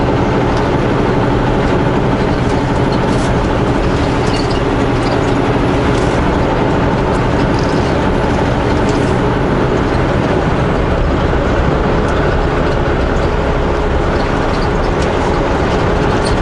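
Steady, loud rumble of a passing train with auto-carrier rail cars, heard from a vehicle driving along a mountain pass, a continuous broadband roar with faint rhythmic clatter and no voices.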